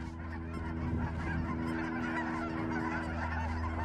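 Snow geese of dark and light phases mixed with four or five greater white-fronted geese honk steadily from a distance, a dense overlapping chorus of calls over a low background hum.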